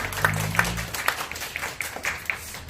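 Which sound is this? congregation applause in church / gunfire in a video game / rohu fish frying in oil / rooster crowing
congregation applause in church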